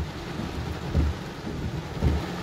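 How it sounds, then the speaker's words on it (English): Heavy rain pours in a thunderstorm over New Milford, Connecticut, a dense steady hiss broken by two deep, rolling thunder rumbles about a second apart, with no talking. "Look how fast the rain filled in behind us"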